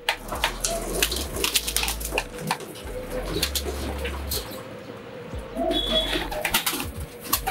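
Young racing pigeons in a loft, banded and stamped for racing, give soft overlapping coos and flutters close by, with a low murmuring hum throughout and occasional muffled voices in the background.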